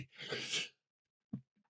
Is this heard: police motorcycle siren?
no